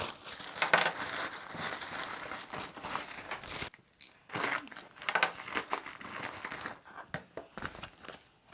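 Close, loud crinkling of plastic packaging while unpacking a wireless mouse and household items, rustling and crackling in uneven bursts with brief pauses between handlings.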